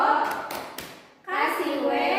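A second-grade primary school class claps three quick beats of the tepuk wow clap pattern, then a brief pause gives way to children's voices chanting together.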